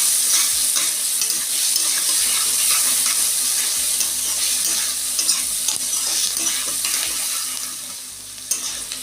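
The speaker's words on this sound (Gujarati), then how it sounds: "હવે બધું આપણે મિક્સ કરી લઈશું વઘારની અંદર" Sliced onions being stirred into a hot oil tempering for a bitter gourd curry, a loud continuous sizzle with spoon scrapes and clatter up close, no talk.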